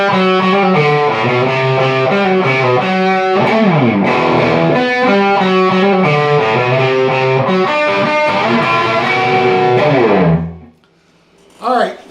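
Distorted electric guitar plays the break lick from a song, loud, ringing chords and bending notes for about ten seconds before stopping, then a short strum at the end.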